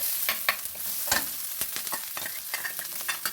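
Curry leaves are dropped into hot oil in a frying pan, giving a dense, steady sizzle up close, with brief crackling pops and stirring scrapes over it.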